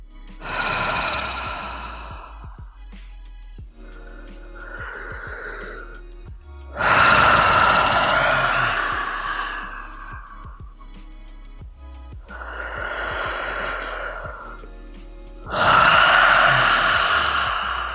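Slow, deep breaths during a breathing exercise, alternating long audible exhales and inhales in a repeating cycle, close and clear with a faint steady hum underneath.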